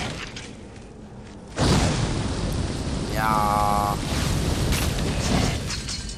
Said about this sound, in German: das ist schon wieder was explodiert